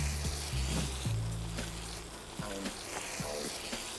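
Crayfish dropped into a pan of hot garlic butter, giving a steady close sizzle and frying crackle with a few soft clinks of stirring throughout.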